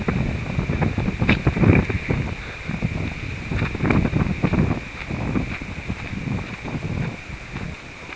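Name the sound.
wind blowing on a blustery day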